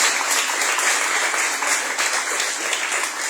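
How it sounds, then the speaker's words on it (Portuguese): Church congregation applauding during a worship service, a steady, dense wash of clapping from many hands that fills the space without pause and carries no talk over it. "Então aplauda Jesus novamente."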